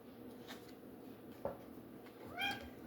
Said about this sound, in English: And that is my cat. She's decided to join the reading.